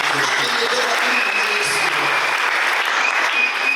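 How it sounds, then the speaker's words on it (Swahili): Steady, dense clapping from a congregation at a Christian funeral gathering fills the whole stretch, loud and sustained without a break. "Chapia Yesu makofi"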